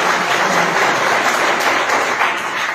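A church congregation claps together in a continuous, loud burst of applause with no talking over it.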